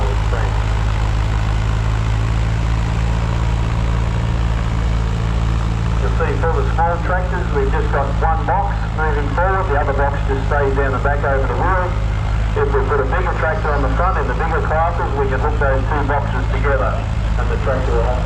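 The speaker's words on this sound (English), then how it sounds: "So it's a Renault 3042, manufactured by Renault in France." A vintage Renault 3042 tractor, an early-1950s French machine at a tractor pull practice day, idles with a steady low drone throughout while someone talks over it at length.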